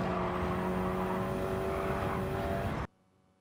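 Race car engine roaring at high revs in Gran Turismo 7 at Michelin Raceway Road Atlanta, a steady loud drone that cuts off abruptly to near silence just before the end.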